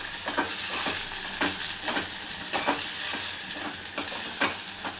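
Green chilies and curry leaves crackle loudly in hot oil, a close, continuous sizzle with regular soft stirring strokes pulsing through it about twice a second.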